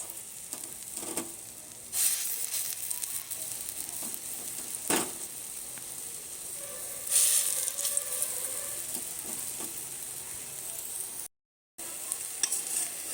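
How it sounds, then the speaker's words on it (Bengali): Bora fritters frying in oil, a soft continuous sizzle with scattered louder crackles and scraping stirs, steady throughout apart from a brief dropout near the end. "আর এখানে বড়া কিছুটা ভেজে রেখেছি, তুলবো এটা, তারপর ওই বড়াটা করব আবার।"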